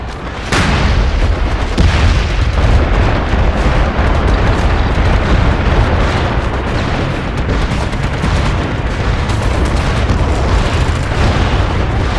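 A big explosion booms in an online military shooter, MAG, and is followed by a loud, sustained roar of blast and rumbling noise that fills the whole stretch.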